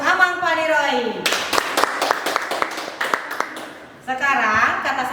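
An audience at a Sunday school Christmas celebration in Horong Kecil gives lively applause, with a few seconds of scattered, crisp claps between stretches of someone talking through a loudspeaker.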